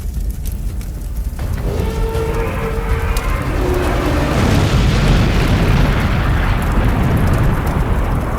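Gasoline ignites into a fiery explosion. A sudden roaring whoosh swells into a loud, sustained rumbling blaze that fills the whole span, with no voices over it.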